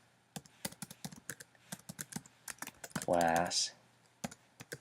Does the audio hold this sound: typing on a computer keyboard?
yes